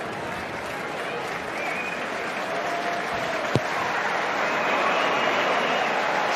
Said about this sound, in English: Tom Cairns is well applauded